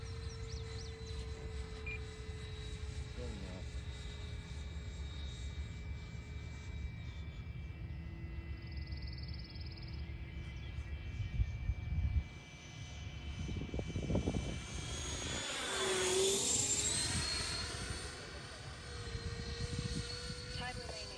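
A Freewing A-4E/F Skyhawk RC jet fitted with a 5280RC afterburner flying, its ducted-fan whine droning and then swelling into a loud Doppler-shifted pass overhead, with people talking throughout.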